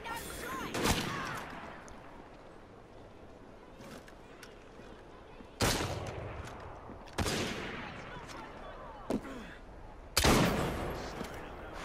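Video game gunfire from The Last Maharaja: three or four loud, isolated shots spaced several seconds apart, each with a sharp crack and a short decaying tail, over a quiet, low background.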